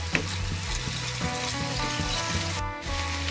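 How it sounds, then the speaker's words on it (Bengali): Ground ginger and cumin spice paste frying in a pan for a Bengali rui fish and potato curry, a steady close sizzle with occasional stirring scrapes and clinks. "এবার আমি এই মশলাটাকে ভালো করে একটু কষিয়ে নিচ্ছি।"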